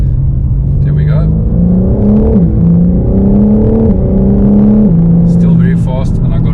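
A 2021 BMW M4 with a 3-liter twin-turbo straight six drops to second and pulls hard, its engine note climbing in steady loud sweeps with a brief dip mid-run, heard from inside the car with a voice talking over it.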